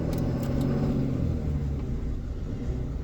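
A Ram 3500 with a Cummins diesel engine and an aftermarket throttle booster accelerates with a steady, deep rumble that stays fairly even throughout, heard from inside the cab.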